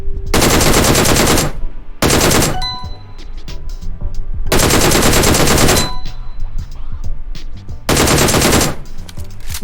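A DP machine gun fires in PUBG Mobile: four loud, dense bursts of rapid shots, each lasting about a second, separated by short pauses filled with faint metallic clinks and pings.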